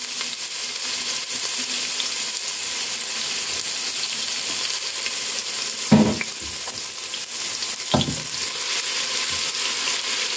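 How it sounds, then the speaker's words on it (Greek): Finely chopped onion sautés in a pan for octopus stifado, a steady hissing sizzle that carries on throughout, with two brief utensil knocks partway through. "Θα βάλουμε το κρεμμύδι που έχουμε ψιλοκόψει."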